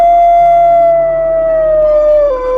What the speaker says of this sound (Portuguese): A fera me viu e soltou um uivo que fez meu sangue gelar.